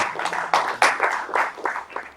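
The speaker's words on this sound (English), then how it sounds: "This is applause is for sponsors." Applause for sponsors at a hemp industry congress, a brief round of clapping from a seated audience with uneven bursts of hand claps, moderately loud and close.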